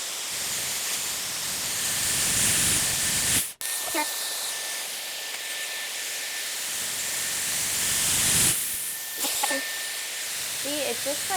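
A Dyson Airwrap blows a steady, close, broadband rush of air while styling hair into vintage waves, briefly cut off once and shifting in tone as the airflow direction is switched, with faint voice fragments near the end.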